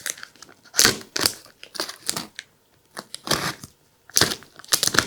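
A plastic bag stuck with sticky tape is crinkled and pulled while a parcel is unpacked, close, quiet bursts of crackling and rustling coming in irregular handfuls with short pauses between.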